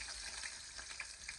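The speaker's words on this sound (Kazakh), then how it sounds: "Тұрған табамызға алдымен пиязымызды салып аламыз." Chopped onions sizzle in oil in a frying pan, a faint, steady crackle with small pops scattered through it, alone without speech.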